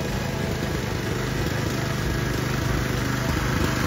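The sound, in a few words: tractor engine running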